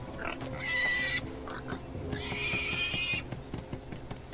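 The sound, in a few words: pigs screaming in video game Divinity: Original Sin 2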